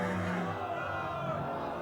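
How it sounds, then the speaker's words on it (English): A crowd in the video game Fable Anniversary cheers in a steady, dense wash of voices and whoops that continues throughout. "Like all of them cheering that one guy just standing there"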